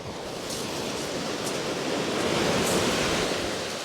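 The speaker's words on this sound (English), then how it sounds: "That wind has definitely gone a lot more west, and it's picked up a lot from when I arrived." A strong west wind blows on a beach, a broad, steady roar that builds slightly and buffets the microphone, with no voices.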